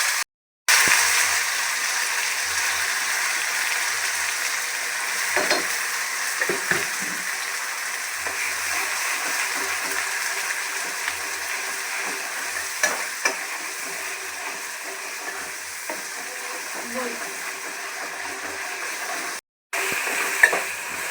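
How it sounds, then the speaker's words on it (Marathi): Masala fries with golden-browned garlic in a pan for a village-style egg curry, giving a soft steady sizzle with occasional light stirring clicks and brief pauses, no talk. "लसूण आपला आता चांगला ब्राऊन कलर झालेला आहे सोनेरी आता आपण मसाला टाकतोय"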